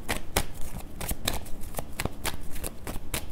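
A deck of tarot cards being shuffled by hand, a steady run of crisp riffling flutters and soft slaps, close and continuous for a few seconds, with no voice over it.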